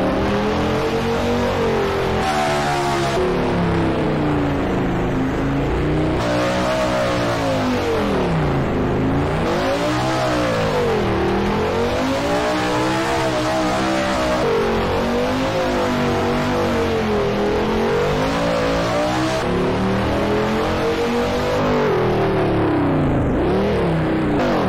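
Car engine in the Drift Crew driving video game revs hard and without a break, its pitch rising and falling as the throttle is worked, loud and close, with faint tire noise and no speech.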